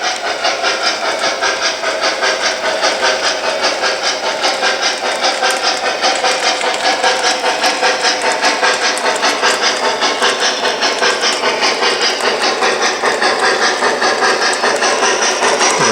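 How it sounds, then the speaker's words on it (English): An O gauge model steam locomotive in Nickel Plate Road livery runs on a loop of an indoor layout, giving a steady, close, continuous running rumble with rapid rhythmic clatter and a hiss over the full stretch. "Here comes a nickel plate road steamer."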